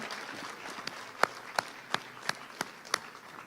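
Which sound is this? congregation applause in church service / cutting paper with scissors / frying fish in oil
congregation applause in church service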